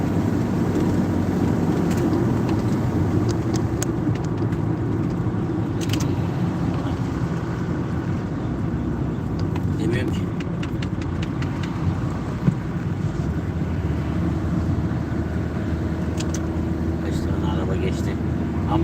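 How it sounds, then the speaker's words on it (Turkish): Cars pass by on the road with a constant low rumble of traffic and engine noise, a few brief louder whooshes rising above the steady drone, while a person talks intermittently. "Görüyorsunuz kaç tane araba geçti bizi."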